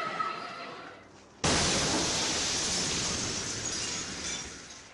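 A meteorite blast over Russia in 2013: a sudden, loud burst of broadband roar cuts in after a quieter stretch and holds, slowly fading, with no voices.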